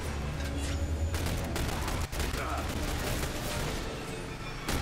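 Blind-fire gunfire from The Bureau: XCOM Declassified on Xbox 360, a dense, steady battle roar of shots and explosions, loud and continuous throughout with no clear gaps.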